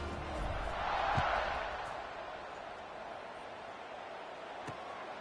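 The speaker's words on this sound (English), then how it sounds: "this crowd is buzzing after that last score" Football stadium crowd buzzing after a score, a broad steady roar that swells early then settles into a sustained wash of distant voices, with a few faint thumps.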